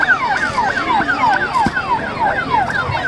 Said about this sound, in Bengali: অ্যাম্বুলেন্স মানে করে কিন্তু প্রিন্সকে আনা হচ্ছে